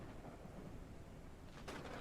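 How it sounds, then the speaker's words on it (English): Steady rain and a deep thunder rumble from a video game trailer, a dense continuous wash with a louder crack-like burst near the end, no voices. "Look at the rain effects."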